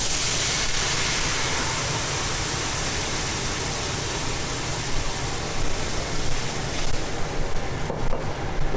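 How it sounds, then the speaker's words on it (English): Wine poured into a hot pan of pork medallions to deglaze for a cherry wine sauce, giving a loud, continuous hissing sizzle that holds steady and starts to break up near the end. "We use that to deglaze our pan, get all those brown crusty bits from the cooking into the sauce."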